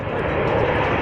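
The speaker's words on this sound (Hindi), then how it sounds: "इस फॉरवर्ड एयर बेस पर सबसे पहले हम आपको दिखाते हैं सुखोई लड़ाकू विमान की गर्जना" A Sukhoi fighter jet at a forward Indian Air Force base near the Chinese border roars with a loud, steady, broadband engine rumble that fills the whole clip.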